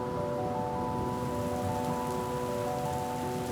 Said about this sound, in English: and the rain begins to fall.